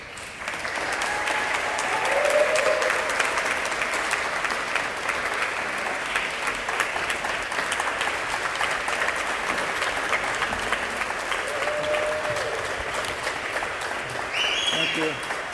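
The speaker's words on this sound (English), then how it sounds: "Please give a great round of applause for outgoing CEO Mark Eckendorf" An audience at a retirement ceremony for an outgoing CEO applauds, sustained broad clapping that swells early and holds steady throughout, with some voices mixed in.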